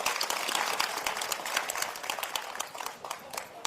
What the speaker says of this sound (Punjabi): ਔਰਤੋ ਤੁਸੀਂ ਆਪਦੇ ਲਈ ਤਾੜੀ ਮਾਰ ਲਓ